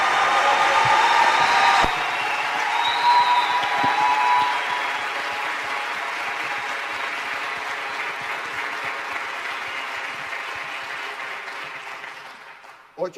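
Audience applause in a museum debate, as people vote in favour of technological devices in museums: dense, steady clapping that holds strong for a few seconds and then slowly thins and fades toward the end.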